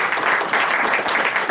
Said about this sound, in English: please give a round of applause for the whole panel